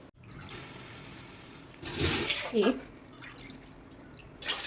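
Water poured from a bowl into papad flour in a kitchen in a few short splashing bursts, close and moderately loud, with a voice counting between the pours.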